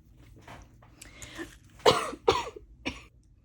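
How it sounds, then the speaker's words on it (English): A woman coughs several times in a short burst, close to the mic, the sharp harsh hacks getting louder toward the middle and then easing off, with quiet room noise between them. "I was about to hit play and then I started coughing for no reason"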